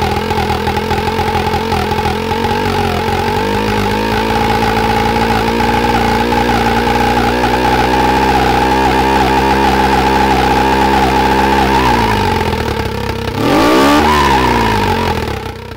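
A real-time engine simulator idles with a dense, buzzing mechanical drone as its idle speed is tuned, holding steady for long stretches before a quick rev that swoops up and back down, loud and continuous with no voices.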